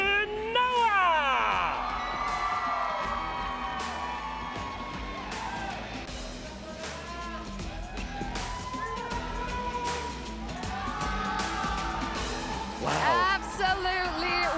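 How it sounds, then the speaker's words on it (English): Esports arena crowd at the MWI 2024 grand finals cheers and roars continuously, loud and dense, with whoops and screams rising in bursts while an announcer's amplified voice carries over the crowd. "Absolutely wicked crowd."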